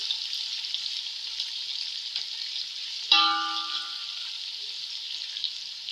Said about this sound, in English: the dry spices have been fried up with the onions